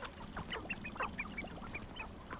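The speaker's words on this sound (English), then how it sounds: "Chicken friends." Chickens in the video game Hogwarts Legacy cluck and squawk in a quick run of short, nasal calls, faint and scattered over a soft background with no voices.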